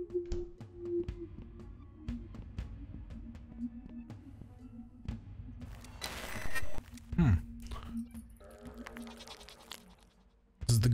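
A goat in the game Sally Face gives a short, wavering bleat partway through, amid quiet ticking, creaks and scattered game noises in an otherwise hushed scene.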